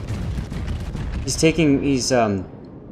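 Heavy battleship guns from the Queen Elizabeth fire in a naval video game, giving deep low booms and rumble at the start before a voice shouts excitedly over the fading reverberation.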